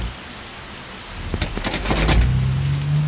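Rain falling in a steady hiss, with a cluster of sharper rumbling bursts in the middle and a low hum joining toward the end. No one speaks.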